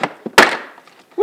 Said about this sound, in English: just grab your panel removal tool and just get behind the edge and start prying it out